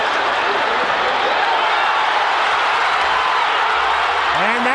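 Dense stadium crowd noise at a 2000 USA vs Haiti Gold Cup soccer match, a broad continuous roar with applause and cheering that swells briefly near the end, heard under a commentator's voice.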